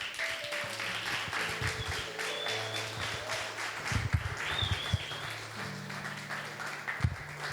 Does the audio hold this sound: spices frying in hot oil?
no